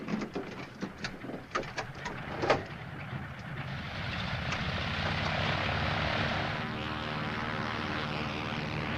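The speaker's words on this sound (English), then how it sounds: "Would you like to make your airplane fly now?" A propeller airplane engine drones overhead, swelling into a steady, loud roar about midway and holding there, after a few earlier scattered clatters and knocks.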